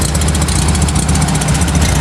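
A Volkswagen Karmann Ghia, powered by the same engine as the Beetle, idles loudly and close by with a steady, throbbing low rumble and a regular pulsing beat.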